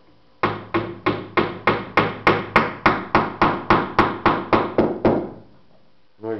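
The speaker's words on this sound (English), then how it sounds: "Then just take your hammer." Fifteen evenly spaced, sharp hammer taps in a steady rhythm, close and loud, followed by a brief pause, driving a glued part into a hole on an RC jet B-1 bomber model.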